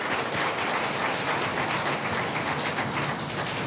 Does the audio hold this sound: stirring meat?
no